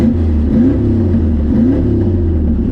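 A loud, steady car engine drones with a raw, rumbling exhaust note, rising slightly in pitch a couple of times as it revs.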